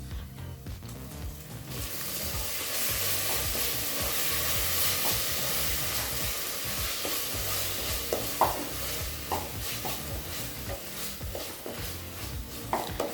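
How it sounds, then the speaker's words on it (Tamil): Ground masala paste sautéing in hot oil in a pan for a cowpea biryani, a continuous frying sizzle with occasional scraping stirs and small clinks from the spatula, growing slightly livelier after a quieter start. "மசாலா சேர்த்துட்டு நல்லா வதக்கிக்கலாங்க."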